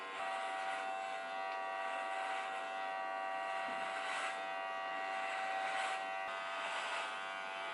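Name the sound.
electric clippers shaving a head bald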